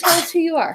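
A child in a school studio gives one sharp, loud sneeze, and a voice speaks right after it.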